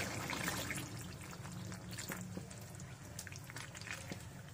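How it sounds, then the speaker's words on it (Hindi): Water poured into spiced potatoes frying in masala for aloo matar, a steady close sizzle and liquid rush lasting several seconds with no talk. "अब इसमें मैं पानी शामिल कर देती हूँ।"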